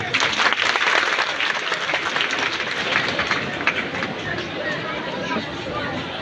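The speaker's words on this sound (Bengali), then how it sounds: "আমরা স্যারের জন্য আবারও একটি করতালি" Sustained applause from a large audience at a political gathering during a Rath Yatra festival event, dense and steady throughout, with crowd murmur mixed in.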